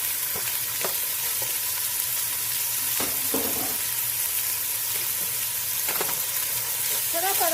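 Onions fry in a pot for chili with a loud, steady sizzle, broken by a few scraping stirs and clinks of a utensil against the pot.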